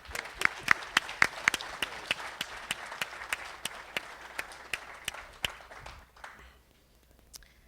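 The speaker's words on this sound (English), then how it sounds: "we'd like to give you a round of applause and say thank you for your loyalty" A small group claps in a loose, spattering round of applause that gradually thins out and fades to a few scattered claps.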